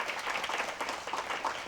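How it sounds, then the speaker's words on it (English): Short burst of audience applause for speaker Russell Quaglia at an education symposium, a dense patter of clapping, fairly distant and even. "please, a round of applause for Russell"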